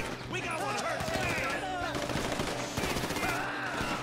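Gunfire from a shootout in the video game GTA V: dense, rapid bursts of shots fill the whole stretch with continuous game noise and overlapping effects, while voices talk over the action.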